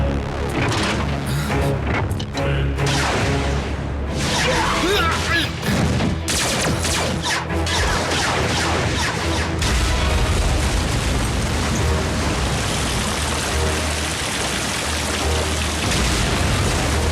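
A loud, dense rumbling roar like a big explosion, sustained and turbulent with crackling debris and a heavy low boom throughout.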